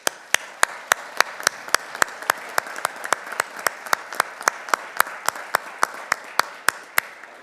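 Sparse, individual hand claps at a police department swearing-in ceremony in Myrtle Beach, a few dozen sharp claps evenly spaced and fairly close, rather than dense applause, with no talking over them.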